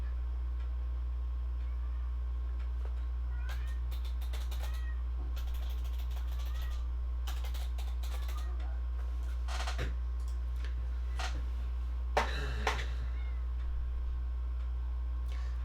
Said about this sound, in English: my cat's meowing at the door